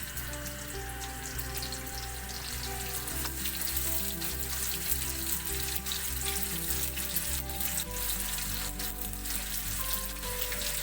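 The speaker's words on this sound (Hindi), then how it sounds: "ये अब ऑयल गर्म हो चुके तो अब हम उसमें प्याज डालेंगे।" Onions sizzle in hot oil for a chicken korma, a loud, dense, continuous crackle close by with a low steady hum underneath. No one speaks.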